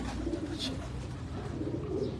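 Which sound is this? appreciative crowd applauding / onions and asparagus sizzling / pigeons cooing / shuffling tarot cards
pigeons cooing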